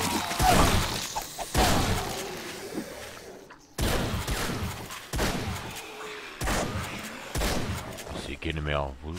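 Gunfire in the video game 7 Days to Die: a series of sharp, loud shots, five or six separate bursts each trailing off in a short decay, with no speech over them.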